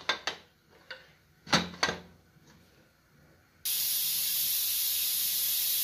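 A pressure cooker holding rice and water on the stove starts whistling, a steady loud hiss of escaping steam that begins suddenly and holds, preceded by a few faint clicks and knocks.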